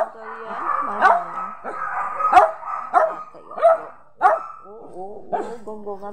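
A pet dog that has just woken up barks playfully at close range: about half a dozen short, eager barks and yips with soft whimpers between them.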